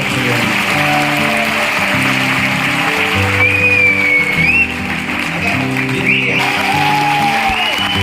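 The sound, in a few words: audience applause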